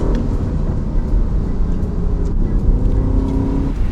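A 2022 Aston Martin Vantage F1 Edition engine hums and growls steadily from inside the cabin, a continuous low drone with slight swells in pitch, no talking.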